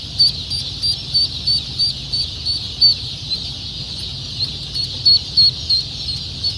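Several white Pekin ducklings peep in a steady run of high, thin calls, clustered near and fairly loud over a low background rumble, with no talking.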